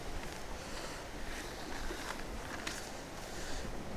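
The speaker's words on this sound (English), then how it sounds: "It's real windy right now." Wind blows steadily outdoors, a broad continuous rushing roar buffeting the microphone with gusty swells throughout, and no other sound stands out.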